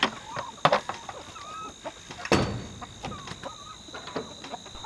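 Chickens cluck and chatter close by in short, irregular bursts, with a few sharper knocks and rustles mixed in.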